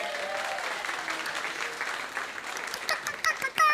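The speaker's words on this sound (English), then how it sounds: "Give a round of applause" An audience at an online comedy show breaks into a round of applause, dense steady clapping with a few voices mixed in, growing louder with some sharper claps toward the end.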